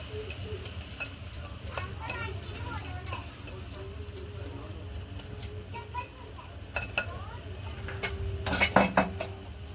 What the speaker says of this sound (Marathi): आणि असं याला हलवत राहायचं आहे लगेचच. सगळीकडे असं हलवून घ्यायचं